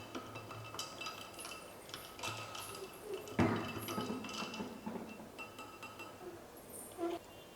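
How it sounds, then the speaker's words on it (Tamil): A saffron almond milk drink being stirred, with faint spoon clinks against a glass and soft liquid swirling, sporadic and close, no voices. "இப்போ இதை ஒரு முறை நல்லா மிக்ஸ் பண்ணி விட்டுக்கோங்க"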